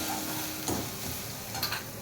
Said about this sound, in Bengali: আবার ভালো করে ভাজা ভাজা করে নেবে